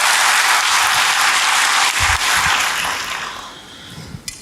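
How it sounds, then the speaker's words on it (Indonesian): Loud, dense applause from a church congregation fills the space, steady for about three seconds before tapering off into scattered claps. "Berikan tepuk tangan yang hebat bagi Tuhan."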